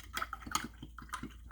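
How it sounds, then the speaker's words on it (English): Light clinking and watery splashing as a brush used for acrylic paint is rinsed, swished and tapped against a water container, a few quick bursts close by, without talk. "Switching up brushes, I really want to get this one rinsed out well."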